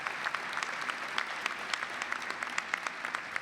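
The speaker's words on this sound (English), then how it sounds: "I want a round of applause for the faculty and staff of this wonderful law school at Northeastern" A round of applause at a law school commencement at Northeastern, a steady wash of many hands clapping from a large crowd, sustained evenly for a few seconds.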